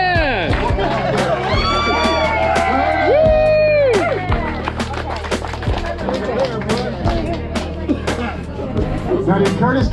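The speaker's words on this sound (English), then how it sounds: "He's been cheering loud for everybody, so we gotta cheer loud for him." Crowd cheering and excited chatter at a kids' fishing event, a lively outdoor throng close by, with voices, whoops and claps overlapping continuously for the whole stretch.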